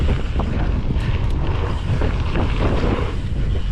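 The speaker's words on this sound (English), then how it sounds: "Horrible crosswind here." Heavy, continuous buffeting of a strong crosswind hitting the microphone while riding outdoors, a loud, rough roar with gusty pulses throughout.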